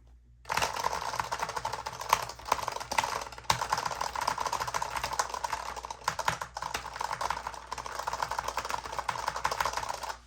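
Rapid clicky tapping of buttons on a Haute42 U16 arcade controller, pressed in quick irregular bursts, close and fairly loud with a faint hum beneath.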